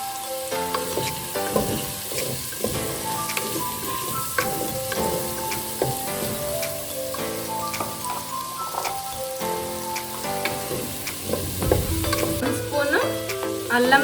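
Vegetables for a vegetable biryani are stirred and fried in a pan, a soft, continuous sizzle with scraping stirs beneath louder background music.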